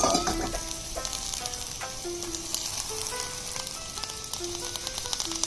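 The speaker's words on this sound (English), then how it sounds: "in the skillet add 2 spoons of oil and fry the cut peas, sweet peas" Cut sweet peas fry in two spoons of oil in a skillet for bibimbap, a constant crackling sizzle with occasional stirring clicks, while soft melodic background music plays throughout.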